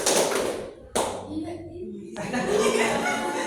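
Students in a classroom clapping game clap together in short bursts, with one sharp clap standing out, mixed with chuckling and spoken prompts.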